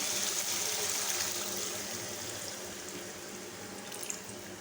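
Water is poured into a pan of mushroom masala (chhatu) as it cooks, a steady close rushing pour that is loudest at first and then slowly thins and fades, with no talking.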